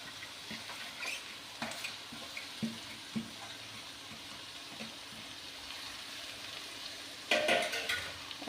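Moringa flowers and red amaranth greens are added to a spiced tempering for a Punjabi sabzi and fry quietly. A faint, even sizzle runs under soft stirring clicks and a few louder scrapes near the end.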